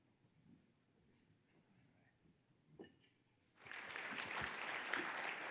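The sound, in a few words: audience applause for legislators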